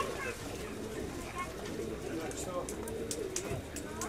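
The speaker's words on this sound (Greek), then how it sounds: "Ενώ τώρα τα βλέπουμε τα πουλάκια και εκεί πάνω" Pigeons coo repeatedly outdoors in soft low murmurs, set against a dense bed of background noise and people talking nearby.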